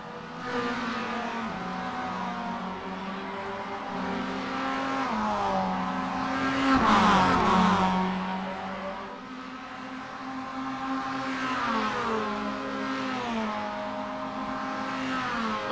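Four race cars running nose to tail in a close train, engines droning and rising and falling in pitch as they pass near, loud and continuous with a swell in the middle, no talk over them.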